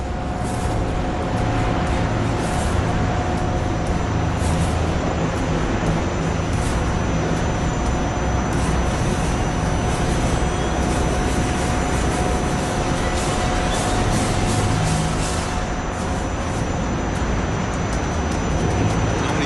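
Military attack aircraft flying a strafing run at the Dubai Airshow: a loud, sustained roar of jet or propeller noise with a steady broad rumble and a constant whine, continuing without break and no talk.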